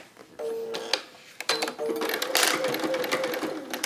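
A sewing machine stitching fabric guided along a magnetic seam guide, whirring in short bursts with a stop and restart, its needle patter running fast and close.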